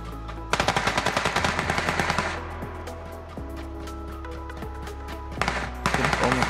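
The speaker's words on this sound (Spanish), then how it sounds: "no se ve quién está disparando." Automatic weapon fire in the video game PUBG Lite comes in loud rapid bursts, a sustained rattling volley at the start, a quieter stretch with a low rumble, then another burst near the end.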